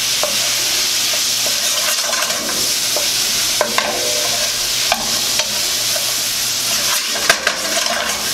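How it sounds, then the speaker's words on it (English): Olives stirred into Tuscan chicken frying in a pan, a steady sizzle running throughout with scattered scraping clicks of the utensil against the pan, close and fairly loud, no voices. "We're going to add our olives. Give that a stir"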